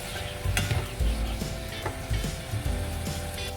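Pasta and sliced tomatoes are stirred inside a rice cooker: close, repeated scraping strokes against the pot over a steady low cooking hiss, with no one speaking.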